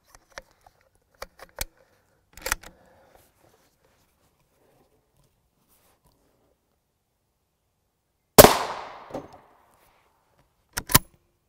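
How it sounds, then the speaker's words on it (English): A TC Compass rifle with a 22-inch barrel and JK Armament kit fires one sharp, loud shot with a brief decaying tail at a Hesco L210 body armor plate, amid scattered small clicks and handling noises in near silence. "We have a 22 inch TC compass with a JK armament rifle kit on there, so we should be getting maximum velocity out of these rounds"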